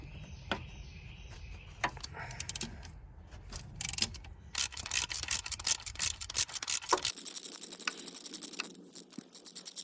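Screws being removed from the power steering pump assembly on a Ford Explorer or Ranger 4.0L V6, heard as a run of close, sharp mechanical ratcheting clicks that grows denser midway, with no talk.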